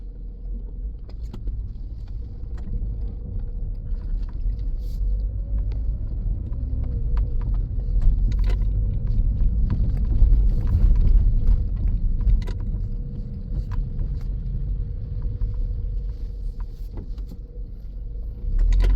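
A car with a semi-automatic actuator gearbox drives along with a steady, close engine rumble and road noise throughout, swelling slightly midway, with no talking.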